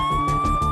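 Police and ambulance sirens wail in a brief, loud burst with a steady high tone over pulsing engine-like rumble, close and dense, with no talking.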